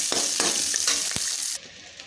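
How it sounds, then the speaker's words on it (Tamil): Cumin seeds, curry leaves and chopped shallots sauté in a pan with a loud, close sizzle and quick stirring scrapes, then the sound cuts off abruptly partway through. "அரை ஸ்பூன் ஜீரகம், கருவேப்பிலை, ஒரு 4 சின்ன வெங்காயம் கட் பண்ணது, 2 நிமிஷம் வதக்கிடலாம்."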